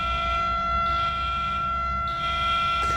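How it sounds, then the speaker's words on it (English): A video game siren wails steadily throughout, a loud sustained civil-defense style tone with a slight rise and fall, heard alone with no talk. "the siren is actually from the video game"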